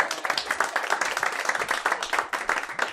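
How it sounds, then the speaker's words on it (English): Lively audience applause at a live stage event, many hands clapping fast and close with a slightly rhythmic pulse, loud and steady for the whole stretch without talk. "So please join me on stage with a round of applause."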